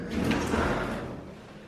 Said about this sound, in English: Oh, the door doesn't shut.